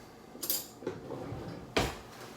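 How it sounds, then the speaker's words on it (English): Clinks and clatters of a spoon being fished out among cutlery and dishes, with a couple of sharp metallic knocks separated by quieter rummaging, close by and fairly soft. "I'm getting a spoon."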